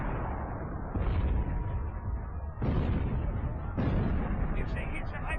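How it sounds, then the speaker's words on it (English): Gunfire and heavy blasts from an enemy submarine in a classic adventure video game, a continuous rumbling barrage with three booming surges, close and loud. "They're shooting at us."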